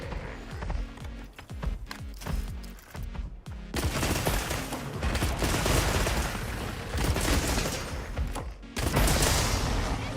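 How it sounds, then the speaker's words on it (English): Rapid bursts of video game gunfire crackle almost continuously during a hunting game, heavy and dense, with sharper volleys near the end and no talk. "Hold on, let's see if I can shoot him with 10 bullets"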